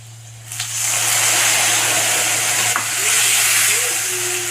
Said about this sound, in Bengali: এবার আমি মশলা দেবো মশলাতে পেস্ট করে রেখেছি আমি আদা কাঁচা লঙ্কা আর জিরে